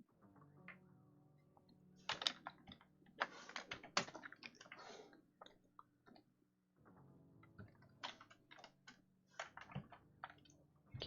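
Someone types on a membrane computer keyboard, making close, soft clicky taps in quick bursts with a short pause midway, with no voices heard.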